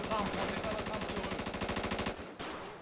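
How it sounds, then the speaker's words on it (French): Sustained rapid automatic gunfire in a video game, a steady machine-gun rattle of evenly spaced shots that runs loud and unbroken for a couple of seconds before briefly dropping off. "C'est eux qui tirent, c'est pas nous!"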